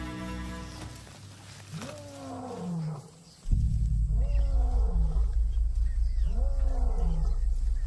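An Ethiopian lion gives a series of deep, rumbling roars, repeated at a steady pace, loud and close against a low, constant background drone.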